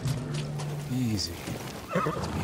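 A horse whinnies in the video game Ghost of Tsushima on PS4, a wavering, descending call over a constant background bed, while a voice speaks briefly near the end.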